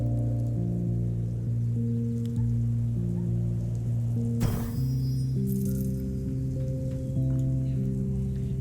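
Steady rain falls across a dark, rainy island in the city-building video game Islanders, a soft continuous patter under sustained ambient music tones, with a brief whooshing swell midway.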